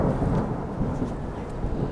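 Deep thunder rumbles continuously through a lightning storm with rain, heavy low rolling close by, with steady rainfall hissing beneath it.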